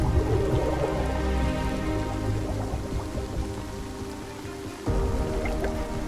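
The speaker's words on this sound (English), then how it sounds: "I wondered if the rain falling down was a cue to the tadpoles to emerge." Monsoon rain falling steadily in a dense, continuous patter and wash close by, loud throughout, with a brief dip and surge near the end.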